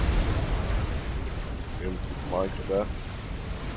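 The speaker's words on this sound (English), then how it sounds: "Kicked off the artillery." Artillery barrages in Forged Alliance Forever rumble as low, muffled booms under a steady battle din, with someone briefly commentating over them.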